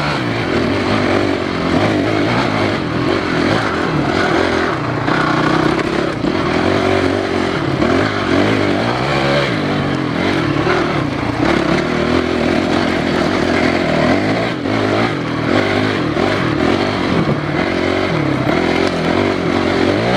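An enduro motorcycle accelerates hard along a trail during an enduro race, its engine loud and close, revving and rising through gears with rough, fluctuating roar and clatter for the full twenty seconds.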